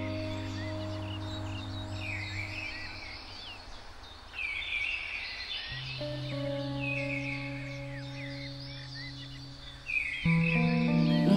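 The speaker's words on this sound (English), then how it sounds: "Listening to birds, apart from the different notes of each individual species, it's just music." Birds sing in a wood, several species overlapping in bright warbling and chirping phrases at moderate distance, over a steady low hum that shifts pitch a few times.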